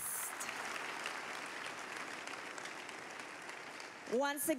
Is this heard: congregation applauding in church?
yes